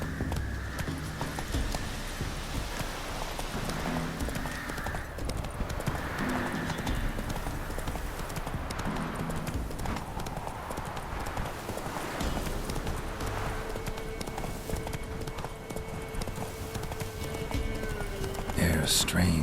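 Hooves of Roach, the horse in The Witcher 3: Wild Hunt, clip-clop in a continuous rhythmic beat, mixed with a neigh and in-game background sounds, and occasional speech over the top.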